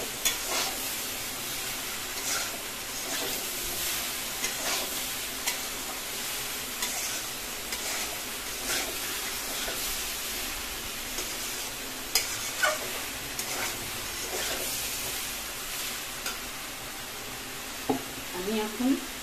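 Young jackfruit and boiled potatoes fry in oil in a pan with a soft, steady sizzle and intermittent stirring scrapes, while a voice speaks now and then over the cooking.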